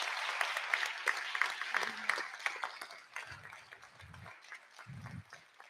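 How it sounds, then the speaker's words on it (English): Applause from the audience at a 2023 city candidate forum in Goshen, a burst of clapping that starts fairly strong and thins out, with scattered voices and a few low thumps as it fades. "Let's have a round of applause for everyone staying here."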